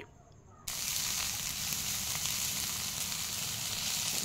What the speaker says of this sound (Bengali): এবার একটু নেড়ে চেড়ে মিশিয়ে নিচ্ছি।